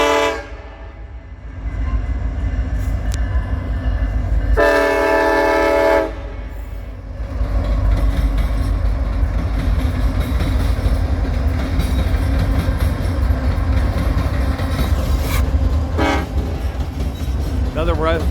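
A westbound double-stack freight train carrying 53-foot containers rolls through Fremont, Nebraska, moving from the C&W main line onto the Transcon line: a loud, close, continuous rumble and clatter of cars, with a sustained horn blast and shorter horn toots.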